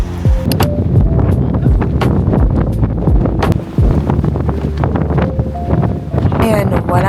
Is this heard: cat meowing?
no